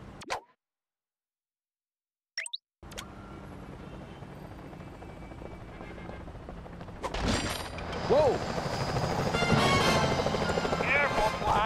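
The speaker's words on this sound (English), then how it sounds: "Those security choppers are bad news." Security helicopters in the Sly Cooper: Thieves in Time Paris museum heist level thrum loudly with rotor roar building after a brief silence, joined by a short exclaimed voice and game effects.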